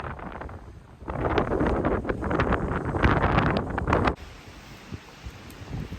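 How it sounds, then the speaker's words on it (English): Strong wind at a hilltop tower buffets the microphone in a loud, rumbling roar for several seconds, then eases to a steadier, quieter blow. "Heading down now because it's super windy"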